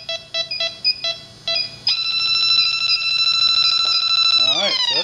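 A handheld refrigerant gas leak detector beeps in quick, uneven pulses, then settles into a loud, continuous high alarm tone before a brief wavering sound at the end.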